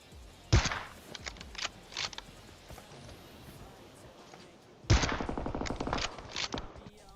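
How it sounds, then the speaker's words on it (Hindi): Gunfire from the PUBG Mobile video game comes in quick automatic bursts: a sharp volley at the start, a few scattered shots, then a longer rattling burst later. It sounds fairly quiet and distant. "गोली चला रहा हूं और बहुत कम बर्बाद हो रही है गोली, सीधा सर पे लग रही है गोलियां"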